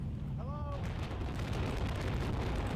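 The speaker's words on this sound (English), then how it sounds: "So this one's obvious explosions." Deep, rumbling booms of a 500,000-ton explosion roll continuously, with a brief whistling tone near the start.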